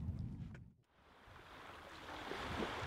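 Powerful sea waves breaking against coastal dunes, heard as a steady, fairly faint wash of surf mixed with wind, briefly dipping before swelling back to a continuous roar.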